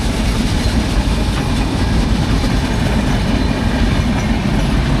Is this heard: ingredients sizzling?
no